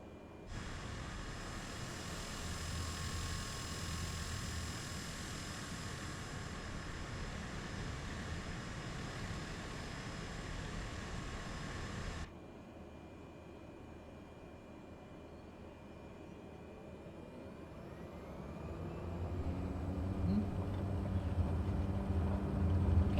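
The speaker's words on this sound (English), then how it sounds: "Get some power into the old plane, and up we go." A propeller plane in a flight simulator hums with a steady tone and a faint whine, cuts off abruptly, then builds again as power comes up for takeoff, its low drone swelling toward the end.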